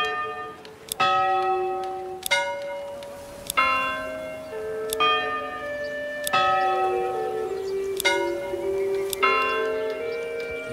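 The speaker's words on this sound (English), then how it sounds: "Bell sound?" Bells ring out in the Manor Lords medieval village-building game: several clear tolls with long ringing overtones, struck at uneven intervals of one to two seconds, loud and alone with no talking.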